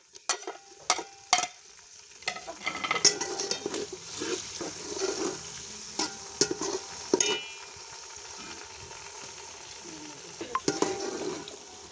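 Tomatoes go into a pan of garlic-ginger paste for vegetable rice, giving a steady close sizzle and frying hiss with scattered stirring scrapes and clinks of a utensil against the pan, with no talking.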